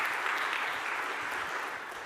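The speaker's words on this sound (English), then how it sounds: "Let's give Jolene a round of applause" A crowd claps steadily at a conference panel, a dense wash of applause that holds at an even level for its whole length.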